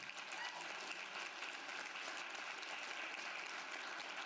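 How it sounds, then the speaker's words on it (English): Steady applause from an audience at a community summit gathering, a dense wash of many hands clapping continuously at an even level throughout. "give them a clap now"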